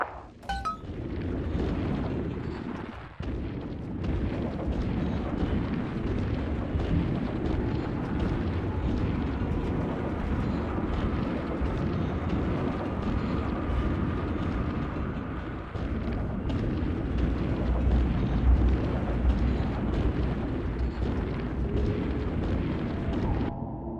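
Bombs explode in BioShock 2 Remastered as a sharp crack opens into a long, heavy rumbling roar with clinks of debris, the low thunder continuing at a loud, steady level to the end.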